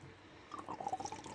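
Diesel trickles from the fuel filter of a 1996 Daihatsu Fourtrak farm truck into a container, a quiet, close splashing and dripping that starts partway through and continues briefly.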